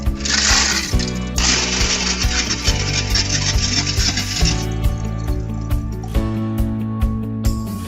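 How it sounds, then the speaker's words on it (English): A Coca-Cola frozen beverage slush machine grinds and blends ice with a loud, rhythmic mechanical churning and rattling that pulses in short repeated cycles close by. "Basically put ice in here, blends it up nicely, turns it into a slush"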